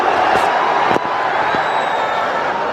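A cricket stadium crowd at a India versus New Zealand T20 match cheers in a broad, steady roar of many voices, with a sharp bang and whistling cutting through.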